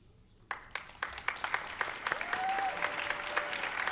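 Audience applause at a city awards ceremony starts with a few scattered claps and swells into dense, sustained clapping from a seated crowd honoring a committee, with a brief whistle rising above it.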